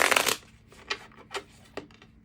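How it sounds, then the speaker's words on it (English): Tarot cards shuffled by hand, a loud riffle burst at the start followed by three softer, separate snaps and slides, close and with no talk. "I'm gonna shuffle them anyway."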